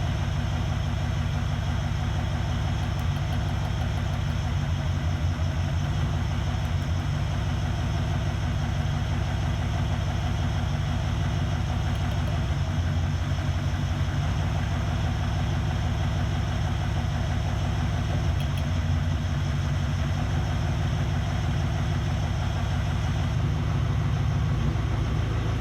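A Ferrari 308 engine idles steadily as its spark plugs are pulled one at a time, a continuous low mechanical drone with slight shifts in tone and no talking over it.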